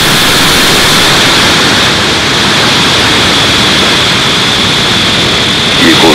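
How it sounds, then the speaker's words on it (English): A SpaceX Falcon 9 rocket lifts off carrying Starlink satellites, its engines at full power producing a loud, unbroken broadband roar that holds constant throughout. "ignition, engines full power, and lift off of Starlink 6-10"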